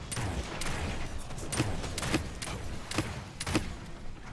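Rapid bursts of gunfire in the video game Paladins, with several quick shots at irregular intervals over a constant background of game noise, fairly faint.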